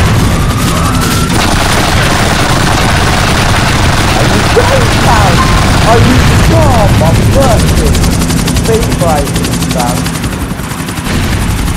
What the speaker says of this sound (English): There's more helicopters.